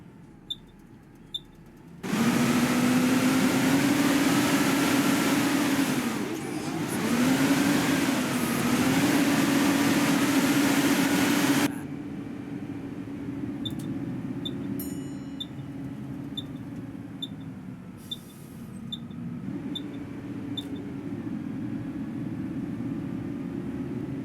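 BP B7TL school bus engine in OMSI 2, a steady idling hum that swells into a loud roaring drone under acceleration for about ten seconds, then drops back to a quieter running hum with periodic ticking clicks.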